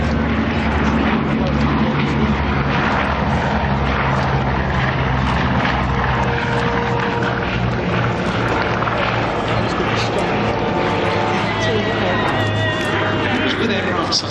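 A Bristol Blenheim flies at the East Kirkby air show, its steady propeller engine drone loud and continuous throughout, with crowd babble and a public address voice mixed in.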